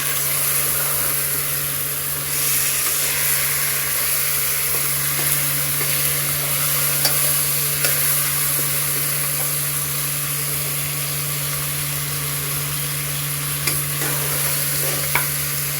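Spiced, marinated fish frying in a pan in a home kitchen, a steady, dense sizzle running unbroken throughout with a constant low hum beneath and occasional small clicks, no voices.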